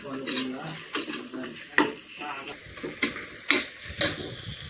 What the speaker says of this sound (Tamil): அடுத்ததாக பச்சை மிளகாவை சேர்த்துக்கிறோங்க சேர்த்துட்டு நல்லா கலந்து மிக்ஸ் பண்ணி விட்டுறோங்க